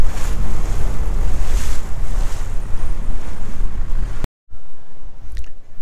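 A boat pounds across rough, choppy sea near the Exumas, with loud continuous wind buffeting and splashing water that cuts out abruptly near the end before resuming more faintly.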